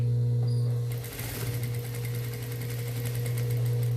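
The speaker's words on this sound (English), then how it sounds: "maybe you could go around and sew another edge" A sewing machine stitches an edge on light fabric, a steady close mechanical hum and rapid needle chatter that runs continuously, dipping briefly near the start before settling into an even pace.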